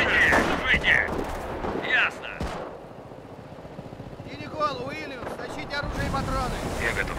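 Gunfire crackles across a World War II battlefield in Company of Heroes, a few sharp shots amid wind-like rumble, with shouted unit voice lines over the noise.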